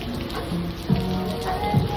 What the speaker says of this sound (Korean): 비가 와서 걱정되니 가는 길이.